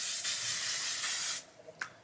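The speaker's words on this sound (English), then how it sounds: "I spray that on" Makeup setting spray hisses onto a face in one steady, close burst lasting over a second, then cuts off, followed by a couple of faint small clicks.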